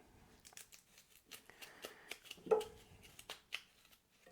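A knife scores a mango cheek one way and then the other, giving soft, quiet slicing scrapes with a few small clicks and one slightly firmer cut midway.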